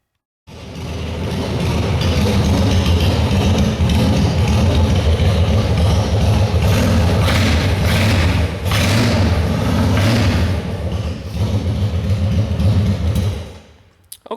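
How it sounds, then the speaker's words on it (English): A Honda Shadow Spirit 750 motorcycle engine starts abruptly and settles into a loud, steady, close rumbling idle with a low, even throb that carries for over ten seconds before cutting off. "I'm going to crank the bike up and I'm going to let it idle for approximately 5 minutes"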